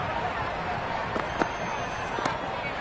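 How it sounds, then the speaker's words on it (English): A cricket stadium crowd roars after a six, a dense, continuous wall of cheering with a few sharp bangs or claps standing out. "Will you listen to that crowd? They are loving this."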